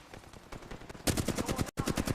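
Rapid automatic gunfire from a competitive Apex Legends tournament match, rhythmic bursts of shots that grow louder and denser midway, with a brief cut before firing continues.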